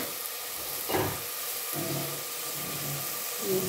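Onions sautéing in a pan for a chicken and malunggay dish give off a steady, close hiss and sizzle, with a few soft bumps in the pan.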